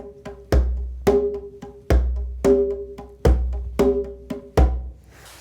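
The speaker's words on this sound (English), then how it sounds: "The right hand goes back and forth between a bass tone and an open tone." Djembe played by hand, one hand alternating deep bass tones with ringing open tones while the other hand stays muted, in a steady repeating two-and-three grouping, close and dry with no voices.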